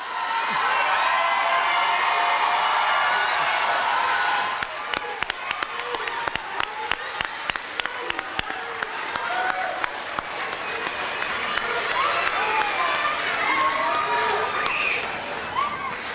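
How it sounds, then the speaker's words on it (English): An audience applauds students at a youth ambassadors program, a sustained crowd clapping that thins into sharper, sparser individual claps midway, with scattered voices and cheers mixed in. "Give these students a round of applause."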